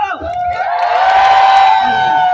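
A large fair crowd cheers and whoops at the Cal Expo pig races, a dense roar that swells after a brief tone at the start and holds steady and loud to the end.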